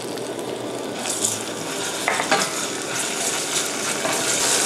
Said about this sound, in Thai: ผมก็ลงพริกแกงเขียวหวานเราลงไปเลย